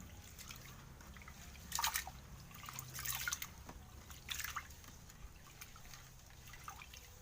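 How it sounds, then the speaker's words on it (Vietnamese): Rice being washed by hand in water for cooking over a wood-fired stove at home, soft sloshing and dripping with a few louder splashy bursts, close and fairly quiet with no talking. "Rồi mình sẽ đi vo gạo nha mọi người."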